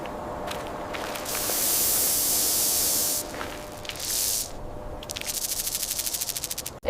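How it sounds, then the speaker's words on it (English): A snake hisses in several bursts of breathy noise, each lasting one to two seconds with short pauses between, ending in a rapid pulsing rattle-like hiss, loud and close with no talk. "It's a snake."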